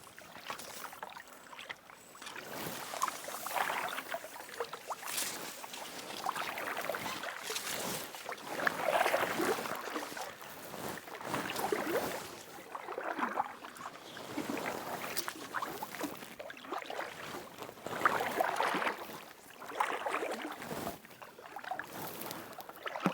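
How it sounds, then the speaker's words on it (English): Kayak paddle strokes dip and swish through a pond, a rhythmic series of close watery splashes and drips repeating every second or two, with light wind in the background and no talking. "it's a beautiful day for a kayak"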